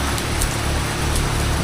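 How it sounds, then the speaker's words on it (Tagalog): Steady rain falls outdoors near a chapel in Davao, a dense, loud, even hiss of drops on surfaces with no speech. "Nagmumoist kasi umuulan."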